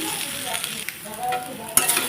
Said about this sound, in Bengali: সেটাকে হালকা করে ভাজা ভাজা করে নেব নাড়াচাড়া করে